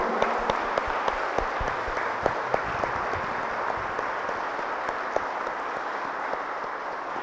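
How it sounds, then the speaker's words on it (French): Church congregation applauding during a Saturday mass celebrating a newly appointed bishop: steady, dense clapping from a large crowd filling the space evenly, with a few sharper individual claps standing out, moderately loud and without speech. "Alors nous applaudissons, nous faisons éclater notre joie."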